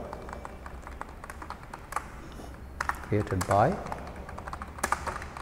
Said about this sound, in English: you can type your own name